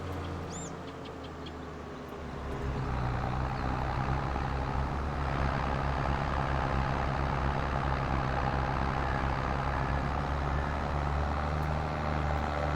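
A heavy tractor engine in Farming Simulator 22 runs at a steady, loud drone with a low rumbling hum, rising slightly after a brief quieter start and then holding constant, with no talking.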